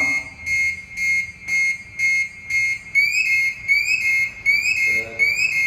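A shrill SCBA breathing apparatus second-stage alarm pulses rapidly and repeatedly, then shifts to a rising, chirping warble, loud and continuous over several seconds.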